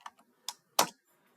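Keys struck on a computer keyboard while writing Python code, a few quick separate clicks close by, the last one loudest, over near silence.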